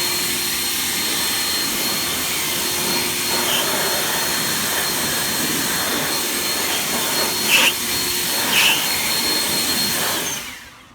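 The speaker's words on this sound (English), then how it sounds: "Now in order to expedite this process, I'm going to use my blower on turbo." A handheld blower running on its turbo setting pushes a loud, steady rushing roar of air to dry a freshly washed car wheel, with brief surges as it sweeps across, then cuts off abruptly at the end.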